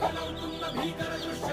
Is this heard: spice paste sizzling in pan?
no